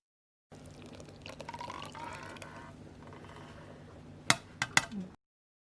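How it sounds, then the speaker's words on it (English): Wet ingredients, including buttermilk, are poured into dry scone mix in a bowl, a soft close trickle followed by a few sharp clinks of utensil on the bowl near the end. "Add the wet to the dry ingredients."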